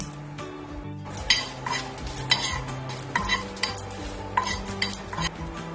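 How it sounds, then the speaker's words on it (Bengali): Dried red chillies and whole cardamom dry roast in a frying pan, a metal spatula scraping and clinking against it in repeated sharp strokes over a faint hiss. "প্রথমে শুকনো লঙ্কা আর গোটা এলাচটা দিয়ে দিলাম।"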